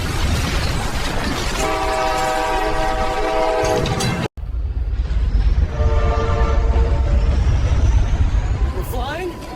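An Amtrak Surfliner train sounds a loud sustained horn over rumbling rail noise, then after a brief break the horn blares again amid heavy mechanical roar.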